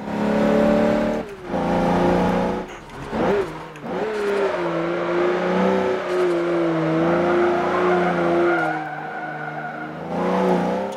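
An SUV engine revs hard while racing in Forza Motorsport 7, rising and falling through gear changes, with brief tire squeal and a sustained loud drone close up.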